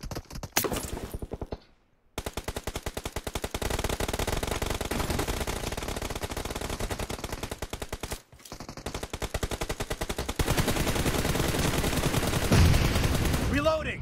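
Rapid, continuous automatic gunfire from the video game PUBG Mobile rattles almost nonstop, loud and close, broken by a couple of brief pauses, with a voice heard faintly.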